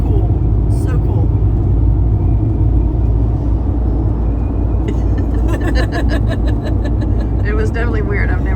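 A car driving through the line of a cold front storm north of Madisonville, Texas: a loud, steady cabin rumble of engine and road noise, with talk running over it and a brief patter of rain or wind toward the end.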